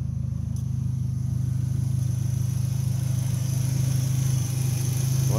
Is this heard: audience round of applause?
no